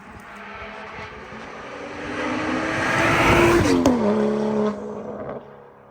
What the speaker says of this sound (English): I think the N55s sound the best with no burbles on.